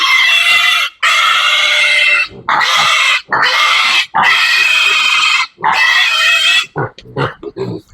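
Piglets about 35 days old squeal loudly and shrilly in long piercing bursts with short breaks between while being held for deworming on a farm, the cries close and continuous.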